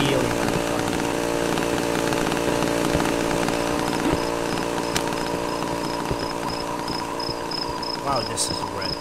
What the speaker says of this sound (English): still hear the chainsaw